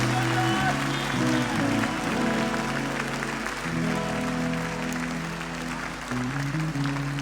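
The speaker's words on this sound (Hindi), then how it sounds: "एक बार तारीफ कर दो तालियों के साथ" A church congregation claps together at a Thursday testimony meeting, a dense wash of applause under ongoing music and voices, steady for several seconds.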